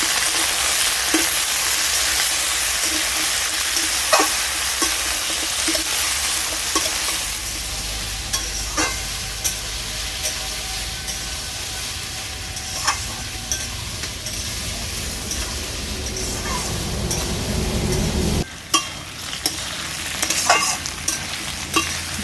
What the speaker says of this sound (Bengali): সব কিছু একবার নেড়ে চেড়ে নেব